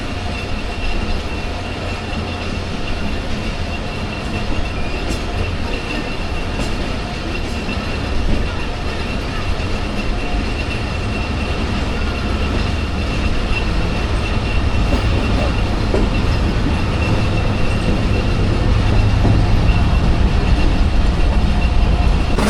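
47 Up Rehman Baba Express on the run from Faisalabad to Rawalpindi, a continuous loud rumble of wheels and rattling coaches with faint rhythmic clicks, swelling slightly toward the end.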